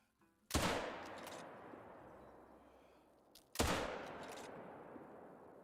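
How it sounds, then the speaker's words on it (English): Two loud rifle shots fired at an animal in a multiplayer hunting video game, a few seconds apart, each a sharp crack followed by a long rolling echo that slowly fades. "We're going to shoot that now."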